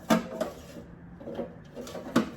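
Stackable open drawers for a home office are handled with a few light wooden knocks and slides in close succession, quiet and near, with no talk.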